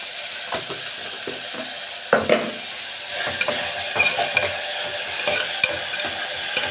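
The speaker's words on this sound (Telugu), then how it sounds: "ఈ టమాటాలు బాగా వేగాలండి. మనం వేగేకి సాల్ట్ కొంచెం వేసుకుంటాము." Tomatoes fry in a pan with salt for dal rice, a steady sizzle under repeated spoon stirring and scraping clatter against the pan.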